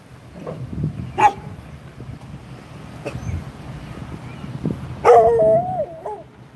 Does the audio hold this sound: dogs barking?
yes